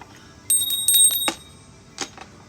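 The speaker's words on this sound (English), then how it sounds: "I'll ring the bell." A small service bell at the counter of a tofu shop in Mishima, Japan, rung in a quick cluster of bright metallic dings followed by one more ring, close by and fading after each strike.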